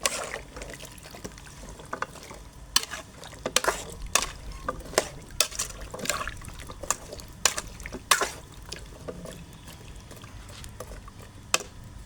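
Water is poured into a pot of beef and pumpkin, with splashing and liquid sloshing broken by sharp clinks and knocks of a utensil against the pot at irregular intervals.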